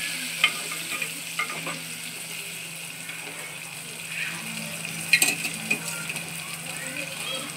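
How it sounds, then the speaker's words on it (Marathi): Corn kernels stir-fried in a pan give a steady, close sizzling hiss throughout, broken by a few light scrapes and clinks of the spoon against the pan. "आम्ही टाकणार आहोत मका, थोडंसं परतून घ्यायचं आहे त्याला."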